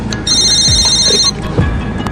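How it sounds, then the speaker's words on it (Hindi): A phone rings with a bright, electronic trilling tone, one sustained ring of about a second heard up close, with faint room sounds before and after. "किसका फोन आ रहा है यार, उठा लो ना।"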